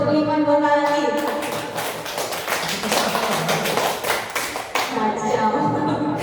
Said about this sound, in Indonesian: Tepuk 2, tepuk 3, tepuk 4, tepuk 5 2 kali.